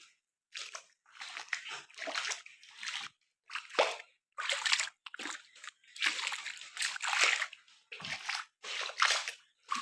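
Bursts of splashing and sloshing as floodwater is thrown by hand on a farm in Gujarat, about a dozen separate irregular splashes with short silences between them, close and moderately loud.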